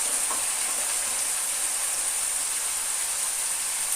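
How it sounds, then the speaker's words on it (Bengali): Spice masala fries in oil for a bhola fish curry, giving a continuous, even sizzling hiss at close range with no pauses or talk. "এবার মশলাটাকে খুব ভালো করে তেলের সঙ্গে কষিয়ে নেব"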